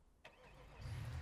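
A truck engine in a driving game cranks and catches, a short starter whir rising into a low, steady engine rumble, fairly quiet with no voices.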